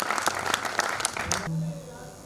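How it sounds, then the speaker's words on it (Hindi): An audience at a Hindi poetry gathering claps for a poet, a brief burst of scattered applause that quickly fades as a voice speaks. "एक बार जोरदार तालियां बजा दीजिए"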